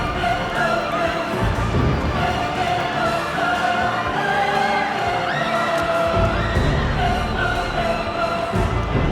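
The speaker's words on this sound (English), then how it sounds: "The crowd went nuts." Loud stadium crowd at a Broncos vs Chargers NFL game in 2015, a dense sustained roar of cheering and shouting that fills the whole stretch without a break.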